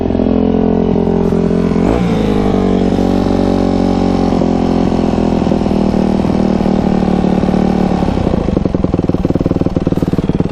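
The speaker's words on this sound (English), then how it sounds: "Now the bike is revving up a little bit higher." A Yamaha YZ250F dirt bike engine runs loud and close, its steady rev climbing noticeably higher partway through and holding a raised, buzzing pitch to the end.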